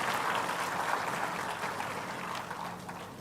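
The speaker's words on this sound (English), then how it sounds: "A huge round of applause to Shri Tejasvi sir also for moderating actively" Steady applause from an audience at a moderated public conversation event, a dense even wash of clapping held at a constant level for about three seconds with no talk over it.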